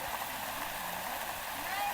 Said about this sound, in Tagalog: Ay, napaka-comfort na ulan.